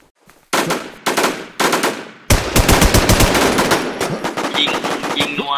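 Machine gun fire from the video game Infestation: three short bursts, then a long sustained volley, loud and close, with no talk over it.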